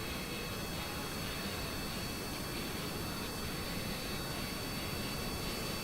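Helicopter turbine blades spinning ridiculously fast in Kerbal Space Program, a faint, steady airy whir and hiss that holds unchanged without any speech.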